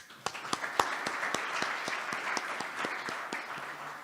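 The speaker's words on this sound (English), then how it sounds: "Another round of applause for Mike" An audience gives a round of applause, many hands clapping together in a dense, steady patter with a few sharp individual claps standing out near the start.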